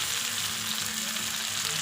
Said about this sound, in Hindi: मस्त लहसुन मिर्ची के साथ में तेल में फ्राई करो